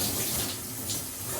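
Running water streams continuously over natural hair being rinsed on wash day, a close, steady hiss with no talk.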